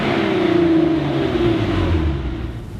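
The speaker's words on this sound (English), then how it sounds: "This allows the Jenny two-door to pull with authority through all the gears, backed by a nice V6 soundtrack thanks to the intake resonator" A Hyundai Genesis coupe V6 with an intake resonator pulls hard through the gears, its loud, close engine note rising steadily as it accelerates.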